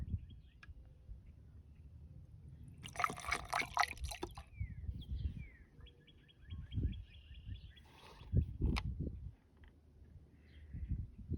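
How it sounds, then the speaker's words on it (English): Thick coolant leak sealer poured from a bottle into a car's upper radiator hose and radiator, giving soft liquid trickles and drips close by, with clinks and rustles from handling between pours. "I'm gonna pour half in the upper and then the rest in the radiator."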